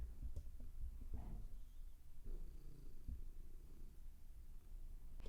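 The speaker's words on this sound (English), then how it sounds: "You can hear her purring." A cat's low, rumbling purr close to the microphone, quiet but continuous, pulsing in soft rhythmic waves with no talking.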